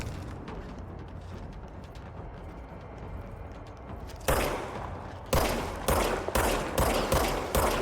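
Pistol gunfire in the video game Control: after a stretch of low ambient rumble, a single sharp shot lands, then a quick run of loud, evenly spaced pistol shots crack out close by, alone without talk.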